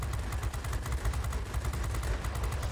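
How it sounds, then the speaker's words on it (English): Aircraft machine guns fire at an IL-10 in the World of Warplanes video game, a continuous rapid rattle of shots at moderate level throughout. "a lot of shots into the IL-10, I think it is."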